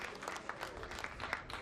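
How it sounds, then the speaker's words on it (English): A crowd claps at a trap shooting competition, sounding as faint, dense, steady applause made of many overlapping hand claps with no voices above it. "big applause for Ukraine, Pomor, Slovakia, Poland, everybody"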